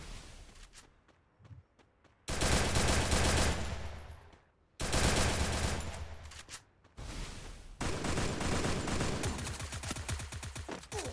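Video-game gunfire in Free Fire, bursts of rapid automatic shots and volleys in three long loud stretches separated by brief quieter gaps, with no speech.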